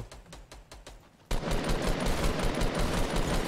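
A minigun fires in Fortnite, with a few spaced shots first and then a loud, continuous rapid burst that runs to the end.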